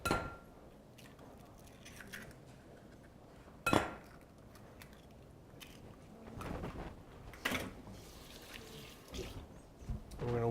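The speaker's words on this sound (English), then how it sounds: "We're going to whisk that up." Two eggs whisked in a bowl for a blood orange and pumpkin crock pot cake, heard as quiet, irregular clinks and scrapes of the whisk against the bowl with a few louder knocks, close by and with no talking.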